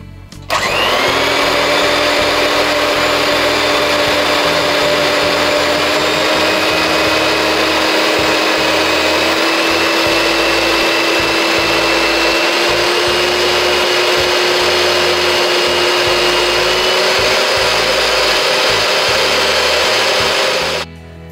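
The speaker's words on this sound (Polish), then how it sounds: "białka ubijam na sztywno i dodaję stopniowo cukier" An electric mixer whips egg whites stiff with sugar for a traditional cheesecake, a loud, steady motor whine that runs continuously for about twenty seconds and then cuts off, with no talk.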